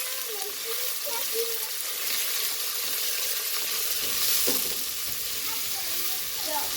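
Onions frying in a pan on the stovetop for egg rolls and fried rice, giving a steady, loud close sizzle throughout with occasional scraping stirs and no speech.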